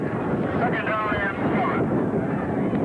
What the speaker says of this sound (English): The wind is gusting quite a bit, as it has all football game